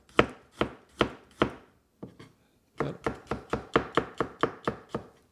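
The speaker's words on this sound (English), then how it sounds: "now we'll slice our garlic" A knife slices thin garlic on a cutting board: crisp, evenly spaced chops, three, then a short pause and two softer ones, then a quicker run of about eight, close and clear with no talking.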